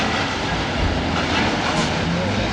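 An evening train passing nearby, a continuous loud rumbling roar of rail cars with faint rhythmic clatter, while people talk over it.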